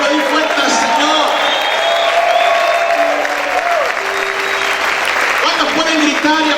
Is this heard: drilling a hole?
no